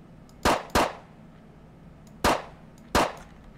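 Four sharp pistol shots from a Colt 1902, each followed by a bright metallic clang from steel targets on an outdoor range, fired in an uneven rhythm with two close together, then a pause and two more.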